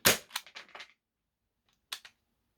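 A Tokyo Marui Mk23 airsoft pistol fires in sharp, dry cracks: a loud first shot followed by a quick run of lighter snaps, then silence, then two more close clicks and pops.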